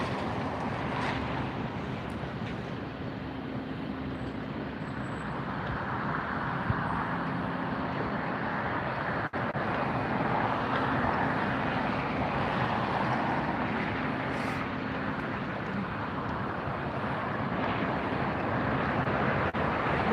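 A Strat Air Boeing 767-300ER BCF freighter landing at LAX, a steady distant roar of jet engines and rushing air lasting throughout, with wind buffeting the microphone and no clear change in level.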